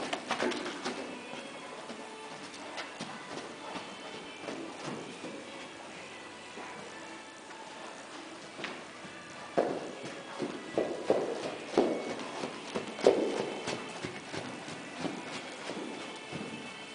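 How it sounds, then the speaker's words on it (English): A Perch cross gelding walks on its hooves, giving an uneven run of soft clip-clop thuds that grow louder and more distinct toward the end, with birds cooing in the background. "Perch cross gelding. Walk, trot, and canter."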